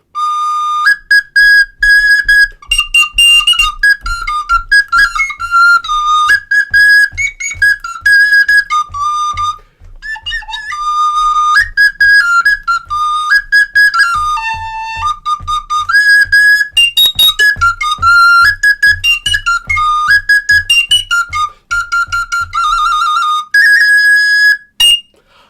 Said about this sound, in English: Here's your little baby flute.